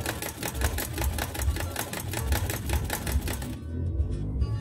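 An old sewing machine stitches in a fast, even clatter of rapid needle strokes that runs almost without a break, loud and close, with no talking.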